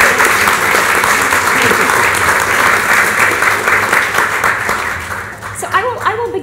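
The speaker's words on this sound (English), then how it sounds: "could we just have a round of applause for all three of them before we get started?" An audience applauds three panelists at a literary talk, sustained dense clapping filling the room before thinning out, with a voice starting to speak as the applause fades near the end.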